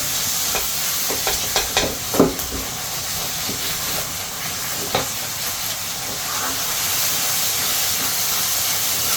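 Steady, dense sizzling of a tempering frying in butter for a paneer dish, with occasional clinks and stirring scrapes on the pan, no voices.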